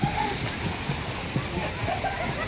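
A waterfall at a waterpark pours in a steady broadband rush with splashing, close and continuous, while a person talks over it.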